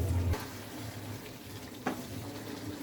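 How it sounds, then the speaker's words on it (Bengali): Potatoes are being sautéed in a chicken gizzard and liver curry, giving an even, low frying hiss throughout. A single brief utensil tap cuts through partway. "এবার পুরো তরকারিটা আমাদের ভালো করে কষাতে হবে।"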